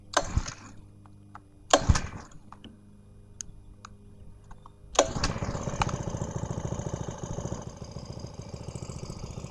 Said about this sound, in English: we're ready to fire it up and set the idle speed.